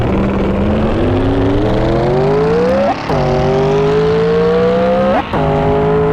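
A turbocharged car accelerates hard in first gear at 30% turbo, the engine note climbing in loud rising sweeps, briefly breaking at two gear-change-like dips before revving up again, close and dominant.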